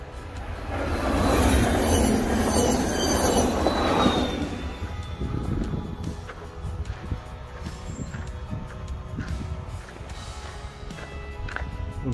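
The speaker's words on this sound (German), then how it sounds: "Da kommt wieder ein Zug." Near the Ilfis river between Marbach and Langnau, a train passes with a loud rolling roar and high, shrill wheel squeal that peaks early, then fades to quieter rattling clicks and rumble.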